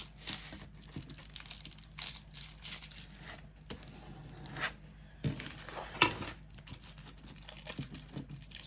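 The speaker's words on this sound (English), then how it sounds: "Sorry about the crinkling." Plastic packaging from a Temu unboxing being flattened and smoothed out by hand, giving quiet, close, irregular crinkles and crackles in scattered bursts.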